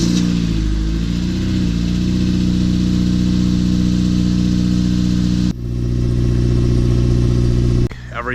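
A car with a newly installed exhaust starts up and settles into a steady, fairly quiet idle, its low rumble close and continuous with a slight rev near the start and a brief dip near the end.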